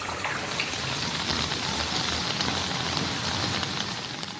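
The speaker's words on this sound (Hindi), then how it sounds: "यहाँ तो बारिश की बूंदों से बाल्टियां और घर तक भर गया है" Heavy monsoon-style rain pours steadily in Chamoli, Uttarakhand, a dense, close hiss of drops hitting surfaces with no pauses.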